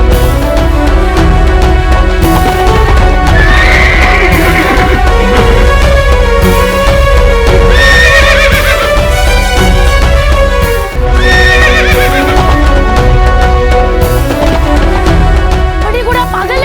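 A horse neighs repeatedly amid a dense, loud dramatic mix with music and hoofbeat-like clip-clop, the whinnies rising several times over a constant full backdrop in a historical Hindi drama about Peshwa Bajirao and a wild horse.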